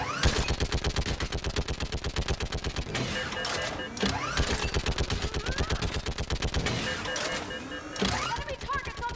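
Rapid bursts of automatic gunfire from a Mass Effect firefight crackle nearly continuously, with brief pauses around four and eight seconds and loud, dense shots throughout.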